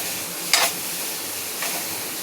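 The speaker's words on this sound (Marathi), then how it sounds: "असं मी आता शेकून चांगलं घेणार आहे" Patoli rice dumplings with jaggery and coconut filling roasting in a pan over low heat give two short sizzling hisses, the first louder, over a quiet steady background.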